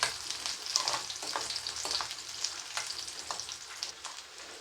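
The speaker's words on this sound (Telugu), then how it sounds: "ఆనియన్స్ సన్నగా కట్ చేసుకున్నాం అనుకోండి, తొందరగా ఫ్రై అయిపోతుంది." Thinly sliced onions frying in a hot pan for a leftover chapati snack, a steady close sizzle with faint crackles and occasional stirring scrapes, no talk.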